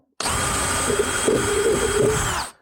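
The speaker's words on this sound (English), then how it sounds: "Our 4 holes are drilled" Power drill boring mounting holes for an auxiliary fuel canister on a Suzuki 650 V-Strom motorcycle, one steady close whine lasting about two seconds that starts and stops sharply.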